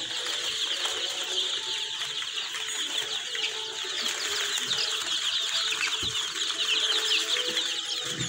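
Chicks and chickens on a poultry farm make a steady, dense chorus of high cheeping and clucking that runs throughout, close and continuous with faint wing and movement noise beneath.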